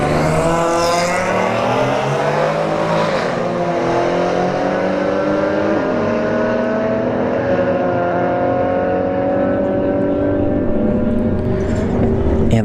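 At a drag strip, a Mercedes and a Subaru BRZ launch and accelerate hard, their loud engines climbing through rising, overlapping gear-by-gear pitch sweeps as they pull away down the track.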